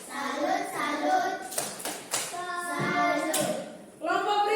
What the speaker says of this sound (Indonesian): Jadi kita tepuk salut dulu untuk kelompok 1